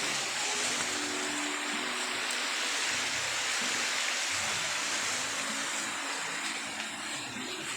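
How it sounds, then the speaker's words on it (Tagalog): A strong river current rushes steadily nearby, a continuous broadband wash of flowing water with no talking. "malakas yung agos dito"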